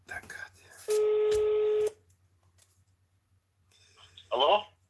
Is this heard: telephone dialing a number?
yes